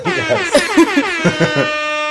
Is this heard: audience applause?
no